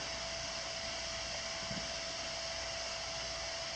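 A Sur Ron Light Bee electric bike charger runs with a steady, even whir and hiss, like a small fan, holding at constant level throughout with no talk.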